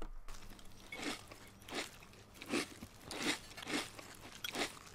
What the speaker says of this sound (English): Do you have to fucking chew so loud?